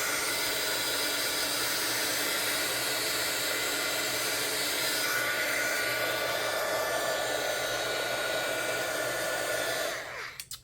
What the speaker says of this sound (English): I'm using the air from my heat tool to kind of move this around.